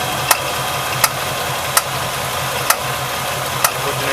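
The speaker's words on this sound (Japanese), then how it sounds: "こっちの今、パンパン音だけになったと思うんですよね、音がね。" A 1973 Pontiac Trans Am with a 455 engine idles in a repair shop with a misfire; a steady rough engine rumble is broken by sharp popping bursts roughly every second, close and fairly loud.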